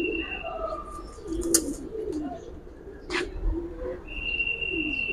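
Pigeons coo in low repeated bursts under a steady murmur of background sound, with a couple of sharp higher chirps breaking in partway through; the birds sound close and fairly loud.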